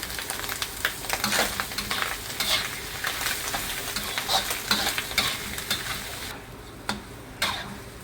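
Mussels stir-fried in a pan with chili, a lively sizzle broken by repeated scraping strokes of a spatula in an irregular rhythm, close up, the sizzle thinning toward the end.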